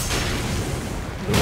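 Deep booming blasts from an enemy firing at the player in Elden Ring Shadow of the Erdtree, a heavy rumbling impact held throughout with a sharper burst at the very end.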